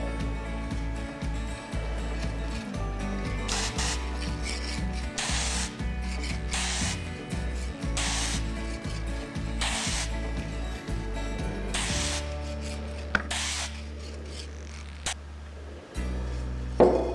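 Mirror-coat finish being applied to a deep-diver wahoo fishing lure in a workshop, with short hissing bursts of spray over a steady droning motor hum that shifts in pitch several times.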